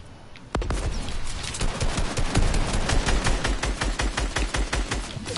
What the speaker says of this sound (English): Okay, shoot at him.